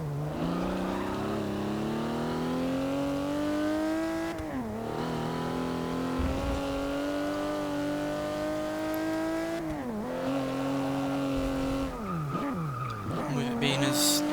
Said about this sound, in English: It certainly sounds typically Ferrari in terms of its bellow V12.